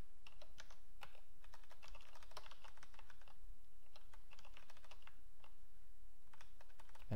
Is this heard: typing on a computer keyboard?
yes